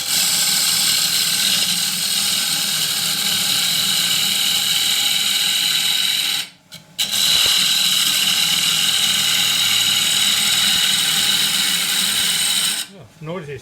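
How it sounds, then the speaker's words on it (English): Half-inch spindle gouge cutting oak on a wood lathe for a treasure box, a loud steady broadband whine and hiss running almost continuously, with one brief pause midway before the cutting resumes. "take the bulk off with the 1/2 inch spindle gouge"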